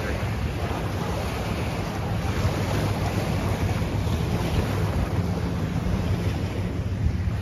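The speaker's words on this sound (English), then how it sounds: "It takes us to the beach on the Indian River." Waves wash onto the beach of the Indian River lagoon on Florida's east coast, a constant broadband surf wash mixed with heavy wind buffeting the microphone, with no voices.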